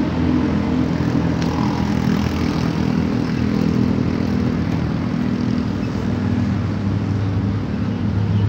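A motorcycle is ridden nearby. Its engine gives a steady, continuous drone that holds at an even level throughout.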